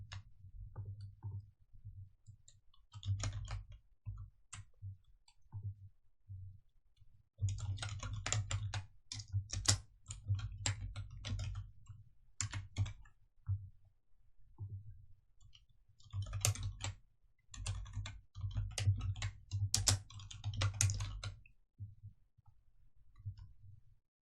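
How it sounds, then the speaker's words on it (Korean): Keys clatter on a computer keyboard as text is typed into a PowerPoint slide. Quiet bursts of rapid keystrokes alternate with short pauses over a low, steady hum. "적용 후 내용 타이핑하십니다."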